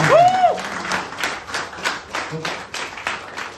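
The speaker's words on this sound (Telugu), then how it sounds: "సో మీకు మీరుగా హార్ట్ఫుల్ గా క్లాప్స్ కొట్టుకోండి." An audience at an Amway office gathering in Hyderabad claps in a short burst of applause, with uneven, fairly loud hand claps that pulse and taper over a few seconds.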